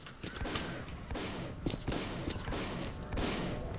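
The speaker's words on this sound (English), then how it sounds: "There's just gunshots everywhere today." Sustained video game gunfire crackles without letup, overlapping shots and bursts forming a dense steady barrage at moderate loudness with no speech.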